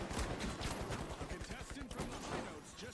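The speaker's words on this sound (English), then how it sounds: "Everybody's using shotguns," Shotgun fire from a match of the video game THE FINALS, a busy stream of overlapping blasts and impacts from mid distance, continuous and dense throughout.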